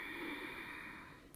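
A single soft, close nasal inhale during yoga breathing, drawn in steadily and quietly over about a second.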